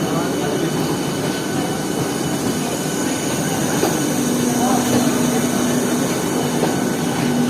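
An AC local train pulls into platform one at Sealdah railway station, a steady loud rumble of the cars filling the platform with a long tonal squeal of the wheels near the end.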